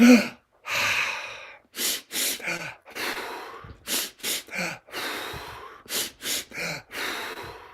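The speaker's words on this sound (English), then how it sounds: "I'll sniff into the belly and sniff into the chest, sniff, sniff, and then a gasp up into my head." A rapid series of short sharp sniffs through the nose, closely spaced in pairs, ending with a quick sharp intake of breath, all close and fairly loud.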